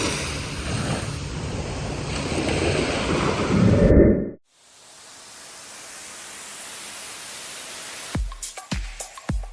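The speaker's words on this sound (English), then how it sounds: "We decided to stop at the beach before we go to sleep." Surf at a beach in Jamaica at night, a steady broadband wash of breaking waves close by, cut off midway and resuming as a softer, even rush with a few sharp knocks near the end.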